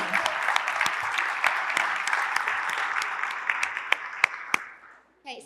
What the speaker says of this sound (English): we are going to give you a round of applause because you deserve it